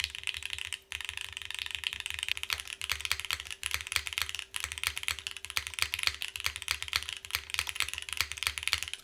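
Typing on a custom mechanical keyboard with a titanium top, copper bottom, tadpole gaskets and Type Plus stabilizers: dense, steady keystrokes in a quick irregular rhythm, close and clear, with no voices.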